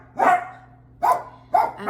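Dogs inside a home bark at neighbors coming home: three loud, close barks spaced about half a second apart, with no talking.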